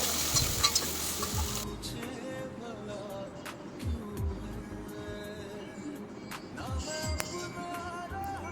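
Washed potato pieces sautéing in a pan for Khandeshi masala khichdi give a steady oily sizzle with intermittent spatula scrapes and taps, close and moderately loud throughout.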